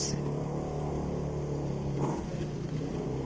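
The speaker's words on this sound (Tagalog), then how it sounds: "Pasensya na sa ingay po ng tricycle." A motorized tricycle drones past on a street with a steady, moderately loud engine hum and no voices over it.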